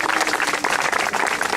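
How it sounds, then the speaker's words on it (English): Applause from a crowd at a union rally for a newspaper bargaining committee, dense steady clapping filling the brief moment at fairly close range, with no voices standing out. "I think they deserve a round of applause"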